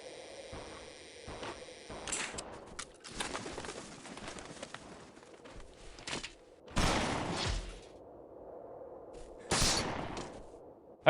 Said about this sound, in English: That guy's still shooting up there.